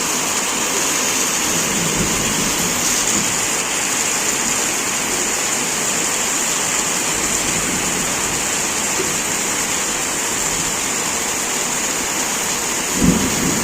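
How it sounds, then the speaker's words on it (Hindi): Heavy rain pouring down in a continuous dense hiss that stays loud and steady throughout, with a brief low thump near the end and no talking. "आप लोग देख ही पा रही हो कितना भारी बारिश है"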